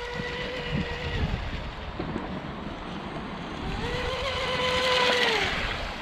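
A radio-controlled wooden shrimp outrigger hydroplane boat on a 3S lipo battery, its electric motor whining steadily with rising and falling pitch as it speeds across water, swelling louder toward the end, no talking.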